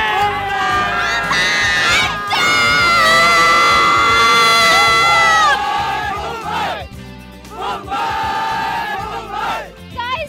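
Cricket fans of the Mumbai Indians in a large crowd outside the ground, a loud sustained roar of screaming and cheering that swells, dips and surges again in chanting bursts.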